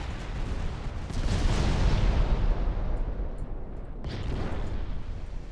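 Naval guns boom in the warship battle game Ultimate Admiral Dreadnoughts, a heavy rumbling salvo that swells and fades, followed by a second sharp report about four seconds in, loud and without talk.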